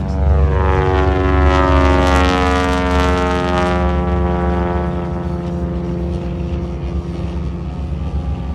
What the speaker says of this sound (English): Smoke on as he takes off right to our left.